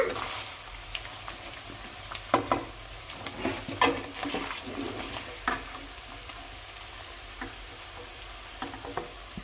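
Paneer frying in hot ghee gives a continuous soft sizzle, broken by scattered scraping clinks of a spatula stirring and lifting pieces from the pan.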